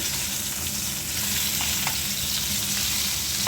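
Fish frying in a pan, a loud, steady, crackling sizzle with faint stirring scrapes throughout, no talk.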